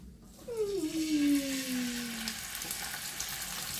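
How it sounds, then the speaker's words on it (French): Cake batter for a gâteau tourment d'amour is stirred gently in a bowl, making a soft, steady swishing with a long drawn-out squeak that slides downward in pitch, heard close up and without speech. "je mélange doucement"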